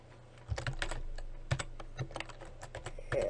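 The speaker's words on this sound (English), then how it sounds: "So now I can go ahead and type Timothy," Someone types on a computer keyboard while filling in a Word table, producing quick irregular clusters of nearby key clicks over a quiet background.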